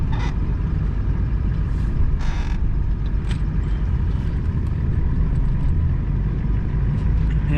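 A four-wheel-drive truck drives along with a steady, loud low rumble from the engine and drivetrain, with a few brief creaks and mechanical clunks over the continuous drone.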